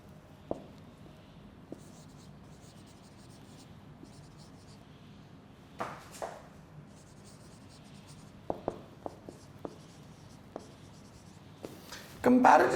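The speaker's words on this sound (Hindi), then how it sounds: "लिख भी देता हूं इधर।" Quiet scratches and taps of handwriting during an English lecture, faint strokes scattered across the stretch with a few sharper knocks, ending in a louder burst of noise.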